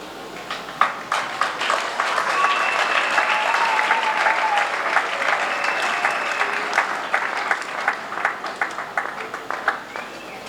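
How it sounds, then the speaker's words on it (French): A large crowd at an evangelism and deliverance crusade in Douala claps loudly and continuously for several seconds, dense rapid applause filling the space with a few scattered sharper claps standing out. "Let us clap for Jesus Christ."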